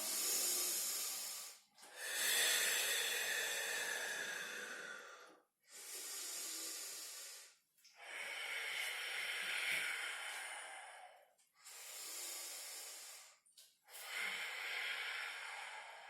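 Forceful yoga breathing in a flowing practice, with six long, loud breathy hisses through the nose, inhales and exhales alternating in a steady rhythm separated by short silences.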